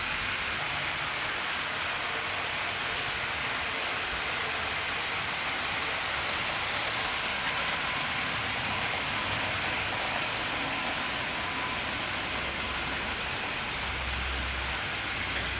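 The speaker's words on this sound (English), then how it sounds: "Slows down a bit up the hill, this brands train does." A steady broadband rush and rumble of a small model train running continuously along its track, slowing a bit up a hill, with no talking.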